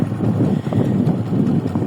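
A Spark SP150R-14 motorcycle engine runs close to the microphone, a low, steady exhaust rumble with some wind buffeting and no speech.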